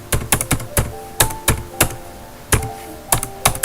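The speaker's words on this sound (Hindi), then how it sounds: "यहाँ यूज़र आईडी टाइप करना है" Keys clack on a computer keyboard as a user ID is typed, a series of sharp, close, irregular taps with short pauses between bursts, heard alone without any voice.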